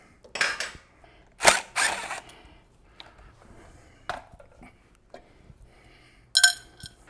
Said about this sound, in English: From there, we can go ahead and take the air cleaner off.